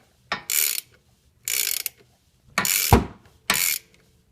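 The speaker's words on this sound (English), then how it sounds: "I'm going to turn this out of the way, and we'll see the pulley start to move out" Ratchet wrench clicking in four short bursts as it turns a timing belt pulley on a Toyota RAV4 engine, close and crisp with brief pauses between strokes.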